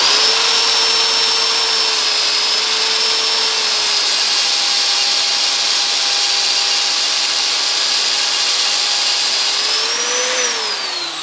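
Valve guide knurling tool driven through a speed reducer, cutting into a valve guide like threading; a steady, loud whining motor drone runs continuously with a slight pitch rise near the end, no voices.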